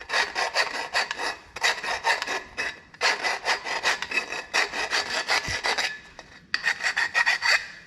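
Hand deburring the cut end of a metal turbo pipe, a steady back-and-forth rasping in repeated strokes with brief pauses between bursts, close and clear with no talking.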